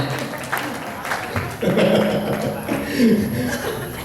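An audience at a sales seminar claps briefly, scattered hand claps mixed with chuckles and laughter in a room, while a presenter's voice talks over them.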